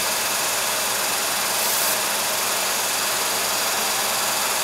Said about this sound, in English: the vacuum pump is running full blast on there, pulling that down, trying to pull it down